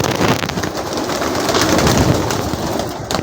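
Several pigeons coo and flutter close by while being fed whole maize, their soft throaty calls overlapping continuously against a busy rustling background.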